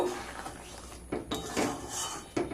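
Spiced potol (pointed gourd) with homemade garam masala and a spoon of ghee stirred in a pan: a few distinct metal spoon scrapes and clinks against the pan, close and moderately loud, with quieter gaps between.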